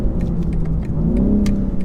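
A 2023 BMW M4 Competition xDrive engine pulling hard through the mid-range above 3,000 rpm, a steady rising growl heard from inside the cabin, loud and continuous with faint ticks over it.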